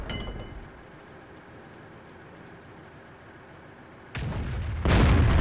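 A tank gun fires a blind shot in World of Tanks, a WZ-132 on Lakeville: low ambient battle rumble, then two sudden loud blasts near the end, the second louder and sustained.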